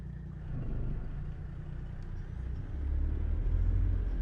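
A truck engine in American Truck Simulator idles with a deep, steady low rumble, growing slightly heavier toward the end, with no voices over it.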